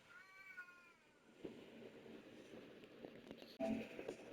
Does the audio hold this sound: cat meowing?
yes